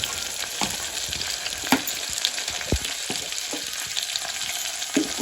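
Masala rice made with Indrayani rice sizzles as it is sautéed in a pan, a steady close frying hiss with scattered scraping stirs and light taps.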